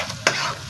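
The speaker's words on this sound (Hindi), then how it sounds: "मैं सिर्फ अदरक लहसुन और हरी मिर्च का तड़का लगाती हूँ" Ginger, garlic and green chili sizzle loudly in hot oil as a tadka for saag, with sharp clinks of a spoon stirring against the pan. There is no talking.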